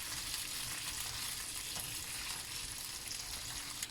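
Steady, close frying sizzle from a pan of smoked paprika and seasoning, a canned-food vegan dish, crackling continuously with a faint stirring scrape and no voices.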